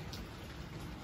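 Rain falling outdoors, a brief, faint, steady hiss of drops without any other sounds.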